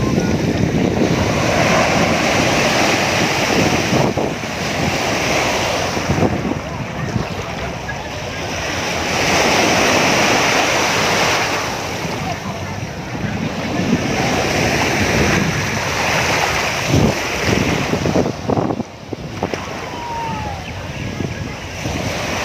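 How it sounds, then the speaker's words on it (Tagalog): Sea waves wash continuously onto the beach at Deep Water Bay, Hong Kong, a loud, rolling surf that swells and ebbs over heavy wind noise, with faint voices in the background. "Ayan, dito tayo din sa dagat."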